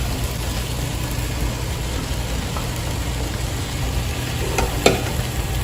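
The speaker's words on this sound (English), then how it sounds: "In go the rest of the ingredients. We have corn, edamame," Corn, edamame and other ingredients stirred in a hot pan, with a steady low sizzle and faint scraping and clinking throughout, one sharper clink near the end.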